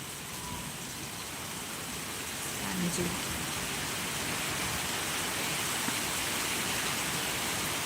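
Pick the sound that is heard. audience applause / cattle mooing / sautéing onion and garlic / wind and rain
wind and rain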